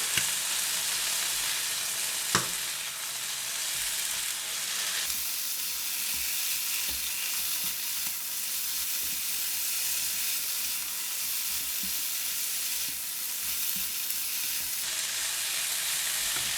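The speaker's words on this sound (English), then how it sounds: "Add in the bean sprout. Give it a stir." Bean sprouts stir-fried in a pan give off a steady, loud sizzle that runs throughout, broken by a few sharp scraping clicks from the stirring.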